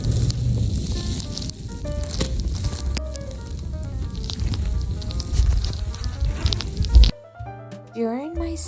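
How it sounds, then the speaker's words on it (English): Snowfall during a snowstorm in New York City, a steady close hiss and crackle of flakes landing, with a voice speaking over it and a sudden cut to a quieter moment with talking at the end. "you can hear the sound of the snowflakes falling."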